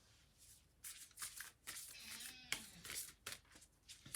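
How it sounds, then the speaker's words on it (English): A deck of tarot cards being shuffled by hand, giving repeated crisp riffling bursts with brief pauses between them, close and fairly quiet, no talking. "we'll start shuffling the cards for you"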